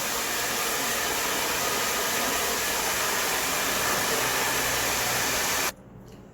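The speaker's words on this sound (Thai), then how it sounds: "เราก็เป่าแห้งนะแค่เป่าก็ยังเงาสวย" A hair dryer blows steadily and loudly up close while drying hair treated with a glass-coating spa treatment, a continuous broadband rush that cuts off abruptly near the end.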